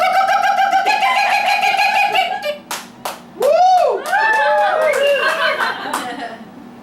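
A woman imitates a kookaburra call on stage, with rising, cackling whoops and chuckling hoots that climb into a rapid laughing chatter, sung loud and close.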